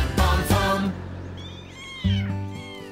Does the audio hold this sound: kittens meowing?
yes